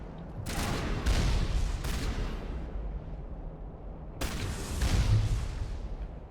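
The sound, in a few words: gunfire in the video game Mass Effect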